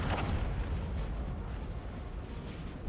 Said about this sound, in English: France is gonna have to take some shots from already in place, already zeroed in artillery from the coalition.